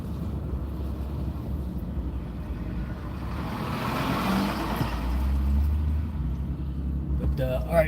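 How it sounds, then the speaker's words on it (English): A giant dump truck rumbles past a car, a low heavy drone building and swelling in the middle then easing, mixed with road and wind noise. "This giant dump truck trying to get through."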